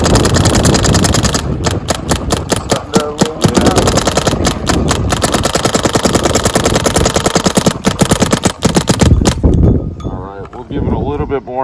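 A Planet Eclipse LV1.6 paintball marker fires rapid, loud, close bursts of shots that continue almost without a break, with a voice audible over the firing and a brief quieter moment near the end.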